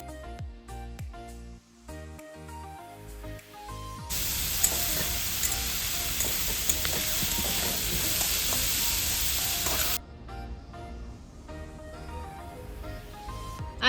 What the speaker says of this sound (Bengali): এই যে এখানে আমার ডিম ভাজা চলছে